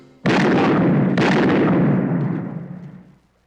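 A single gunshot rings out in a Filipino action film scene, a sudden loud blast followed by a second crack and a long rumbling decay that fades out.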